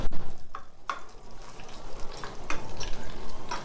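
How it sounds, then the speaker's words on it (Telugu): Dry red chillies, garlic and seasoning seeds frying in oil, a continuous crackling sizzle with sharp stirring scrapes against the pan at irregular intervals. "అన్నీ ఇట్లా వేయించుకోవాలి."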